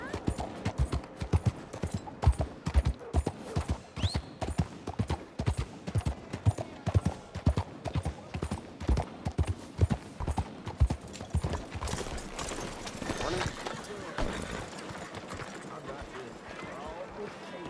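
Horse hooves clip-clopping in the Red Dead Redemption 2 video game, a steady, fairly close rhythmic trot running throughout, with a voice talking over it and the clatter thinning toward the end.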